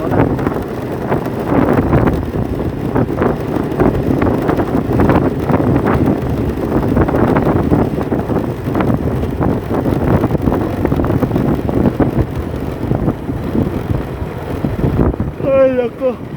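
Strong wind buffets the microphone while riding along a road, a loud, continuous roar that stays constant throughout.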